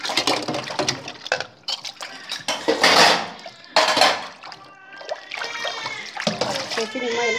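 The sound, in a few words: washing dishes, pots and pans in the sink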